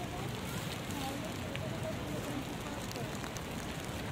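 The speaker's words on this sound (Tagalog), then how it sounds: "Lakas ng ulan, no?" Heavy rain falls steadily in a city in Australia, a constant close hiss and patter that stays even throughout, loud and continuous without clear breaks.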